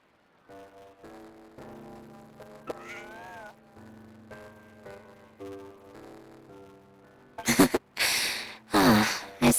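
In Genshin Impact, a cat meows over soft background music, then lets out several loud, drawn-out meows close up near the end.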